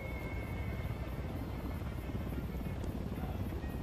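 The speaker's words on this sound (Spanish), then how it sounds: "Escucho otro helicóptero." In the Ghost Recon Wildlands video game, a helicopter thrums steadily in the distance, a constant low rotor drone with a faint buzzing whine, with no voices and no change in loudness.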